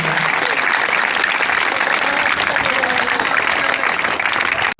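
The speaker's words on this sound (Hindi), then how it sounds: "और तालियां हो जाएंगी।" A school crowd at a government school cultural festival claps continuously and fairly loudly, a thick unbroken wash of hands that cuts off abruptly at the end.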